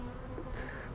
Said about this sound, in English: just a steady stream of bees coming and going